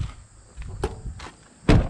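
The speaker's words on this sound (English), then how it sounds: "That door does not want to close because the seal is not perfect." A few soft knocks and bumps, then one solid, louder thud as the trunk lid of a 1991 Honda Prelude Si is shut against an imperfect seal.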